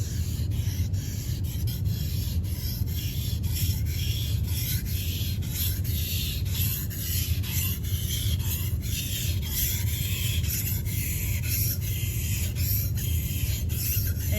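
A knife blade is stroked over a lubricated whetstone in steady, continuous rasping passes, close and fairly even throughout, with no talking.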